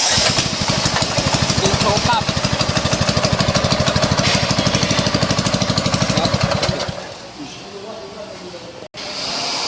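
A small petrol go-kart engine is pull-started and runs with a steady, loud rapid putter for about seven seconds, then cuts out, leaving quieter background noise.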